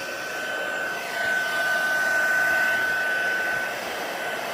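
Embossing heat tool blowing hot air over a watercolor stained glass effect craft piece, a steady close whirring blow with a thin high whine that swells slightly midway and holds throughout, no talk.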